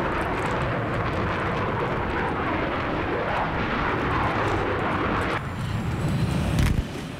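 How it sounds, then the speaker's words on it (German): In Battlefield 3 on Kharg Island, an enemy jet roars in a continuous loud rumble while firing on the player, and the sound shifts sharply near the five-second mark into a brief, harsher burst. "Feindjet schießt gerade auf mich."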